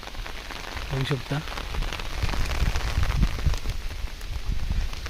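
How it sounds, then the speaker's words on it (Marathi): Rain falls steadily outdoors in cloudy weather in a forest clearing, a dense continuous patter of drops on surfaces throughout, with someone speaking briefly over it. "पाऊस पडतोय"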